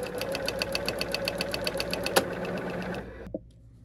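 A sewing machine runs a straight stitch through crochet bag lining fabric, a steady rapid mechanical chatter with a brief clack near the end before it stops and falls silent.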